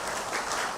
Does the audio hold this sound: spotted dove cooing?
no